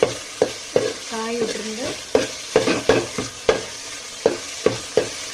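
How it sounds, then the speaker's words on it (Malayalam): Okra fries in a pan for sambar with a constant sizzle, punctuated by a regular series of sharp stirring scrapes and knocks of a utensil against the pan, while a voice briefly speaks. "ഫസ്റ്റ് പരിപ്പ് ഇട്ട് വെണ്ടയ്ക്ക ഫ്രൈ ചെയ്യണം"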